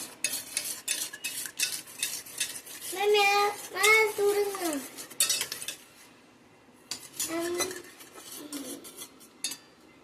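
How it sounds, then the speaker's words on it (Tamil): A spoon stirs a beaten egg mixture seasoned with pepper powder for bread egg toast, with quick, repeated metallic clinks and scrapes against a bowl, broken by short stretches of nearby talking. "இப்போ கொஞ்சம் கலக்கிக்கலாம்."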